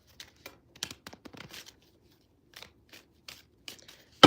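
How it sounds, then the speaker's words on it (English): Tarot cards being shuffled by hand, with quick papery flicks and riffles in short clusters and a pause midway, close and crisp, ending in a sharper snap. "One more shuffle."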